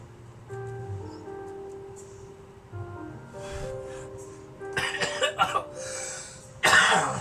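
A few harsh coughs break out near the end over a quiet background with faint steady tones.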